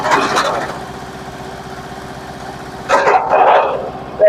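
PAICHE wood chipper used for chopping firewood running, a steady mechanical engine drone with louder bursts near the start and again toward the end.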